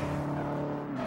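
Engine drone of a Subaru STI driven in Forza Horizon, a steady, sustained hum with a slight pitch shift near the end, continuous and moderately close.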